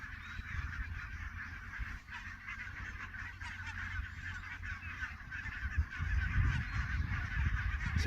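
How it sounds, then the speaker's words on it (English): Grey geese honking in a large flock, a dense continuous chorus of overlapping calls outdoors, steady throughout with wind rumble growing louder toward the end. "That's gray goose, gray geese."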